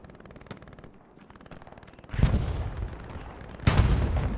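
Gunfire rattles through a World War II shooter battle at Sainte-Mère-Église, a sparse patter of shots building into louder, denser bursts of rifle and machine-gun fire mid-clip and again near the end.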